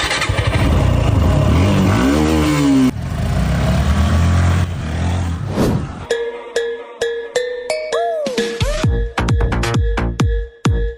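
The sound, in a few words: motorcycles starting and riding off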